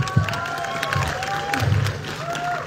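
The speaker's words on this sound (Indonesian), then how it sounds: "Dela Dartian, berikan tepuk tangan dong, yuk" Crowd applause and cheering fill the room, a lively mix of clapping and voices over a steady hum.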